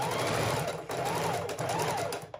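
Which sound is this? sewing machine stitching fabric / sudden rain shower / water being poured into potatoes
sewing machine stitching fabric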